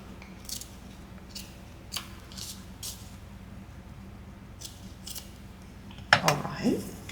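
Scissors trimming a strip of lace glued along the edge of a paper clip for a junk journal flip book: a few soft crisp snips spaced apart, then a louder cluster of cuts near the end, close and fairly faint.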